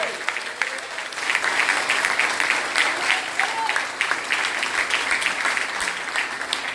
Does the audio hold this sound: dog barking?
no